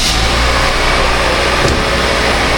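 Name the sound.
Toyota Premio car engine running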